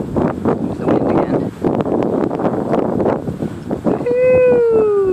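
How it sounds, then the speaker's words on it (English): Blustery wind rumbles and buffets loudly against the microphone outdoors in a backyard, in uneven gusts under a person talking, then a cat's drawn-out meow rises over it at the end. "Here's the wind again."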